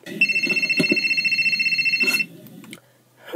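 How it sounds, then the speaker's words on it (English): A cell phone rings in a cinema, loud and close, with a pulsing electronic ringtone that repeats for about two seconds and then cuts off, followed by a short quiet gap and a brief bump of sound. "Who am I kidding? It's somebody's phone."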